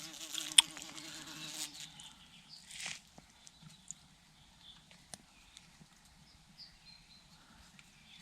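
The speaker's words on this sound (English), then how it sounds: "A bee has got itself in there." A bee trapped inside a tent buzzes loudly up close for a couple of seconds, then quieter intermittent buzzing and soft taps follow against a hushed night background.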